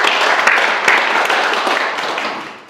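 Audience applause at a Daegu Jung-gu cultural city committee appointment ceremony and forum, loud, dense clapping from a crowd that holds steady, then tapers off toward the end.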